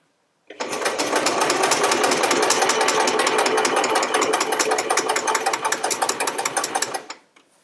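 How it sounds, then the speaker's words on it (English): A sewing machine stitches quilt pieces in one loud, steady run of fast mechanical chatter lasting several seconds, starting abruptly and stopping cleanly, with no talk over it. "You never sew over your pins because it can damage or break your needle."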